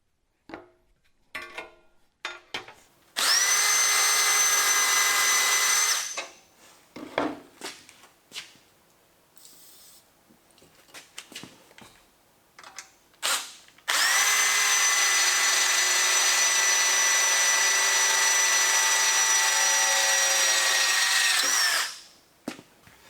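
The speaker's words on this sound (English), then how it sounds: "So it's 6 holes on 5 different pieces, and it's a lot of drilling" An electric drill bores holes in plywood pieces for a custom deck bench, with two long whining runs of several seconds each, separated by shorter bursts and handling clatter, close and alone.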